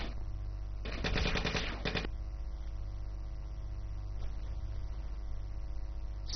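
Gunfire in a Nigerian action film: a brief burst of rapid shots near the start, then a lone crack around the two-second mark, set against a steady low hum with no voices.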